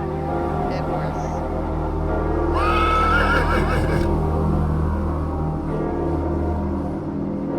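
A horse whinnies in the Cartomancy video game, a loud rising neigh that rings out for about a second and a half over a steady bed of game music, with a person talking underneath.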